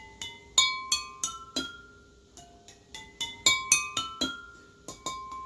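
Drinking glasses struck one after another to play a musical scale, a straight glass among them, giving clear ringing clinks with sustained tones in an uneven rhythm, close and alone.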